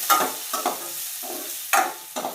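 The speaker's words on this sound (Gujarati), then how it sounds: "મરચાં કટિંગ કર્યા હતા એ નાખી દઈશું. સરસ રીતે મિક્સ કરી લઈશું." Chopped chilies stirred in a hot pan for masala rava vada, with a spoon scraping in several short bursts over a soft sizzle, close and clear with no talking.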